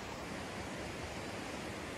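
Floodwater rushes past a shed after a flash flood in the Appalachian Mountains, a steady loud broadband roar with no break, heard alone without talk.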